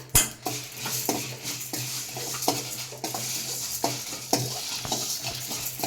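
Whole spices such as fennel seeds, cloves, cinnamon and dried red chillies stir-fried in a pan, with steady frying sizzle and repeated clinks and scrapes of a spatula against the metal, close and continuous with no talk.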